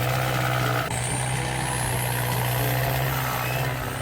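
A Kubota M7060 tractor in Farming Simulator 19 gives a steady, loud engine drone with a low exhaust rumble throughout, joined by a high whine that rises slightly after the first second.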